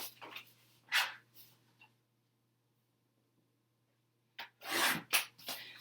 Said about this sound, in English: let me trim it just a tiny bit.